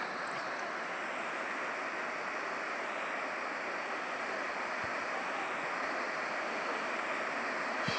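Steady broadband rush of a waterfall at Devarapalli near Visakhapatnam, a continuous roar of falling water that stays even and loud throughout with no talk.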